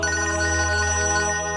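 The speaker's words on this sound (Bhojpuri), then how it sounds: "अरे अंजलि के फोन आवता" A mobile phone rings for an incoming call with a loud, sustained electronic tone that carries a steady melodic pattern close by. No one speaks.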